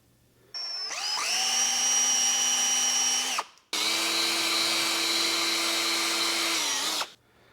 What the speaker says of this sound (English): kind of milled sideways with the drill bit there, and we have a slot